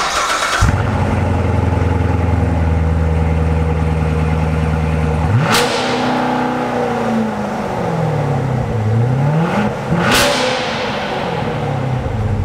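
A cold Chevrolet C7 Corvette Stingray starts up in an underground car park, settling into a loud, deep burbling idle, then gives two sharp, booming revs that echo around the concrete.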